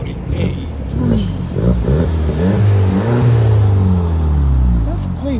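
A 2018 Audi A3 S-Line with a 2.0L turbo engine and straight-pipe exhaust revs up and holds a rising, droning note, loud and close, with voices talking over part of it.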